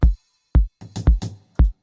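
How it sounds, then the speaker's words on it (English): Deep tech house beat with a hi-hat added, sparse punchy kick thumps interleaved with short bright hi-hat ticks and a snappy hit, tight and electronic with no voices. "Let's see how the hi-hat goes."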